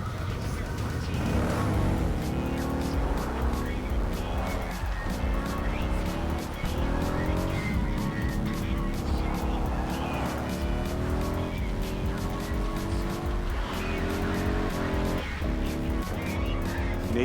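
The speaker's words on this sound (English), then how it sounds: "I could definitely blindfolded tell that that's the Method 143-ish sounding motorcycle" A motorcycle with a dual exhaust engine in the Cyberpunk 2077 video game revs and shifts repeatedly, its rising engine tones loud and continuous over background music and effects.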